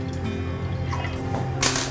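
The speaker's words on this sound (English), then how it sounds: "So I'm going to take the milk and I'm pouring it into a saucepan." Whole milk poured into a saucepan, a close, continuous liquid gurgle and splash with no voices.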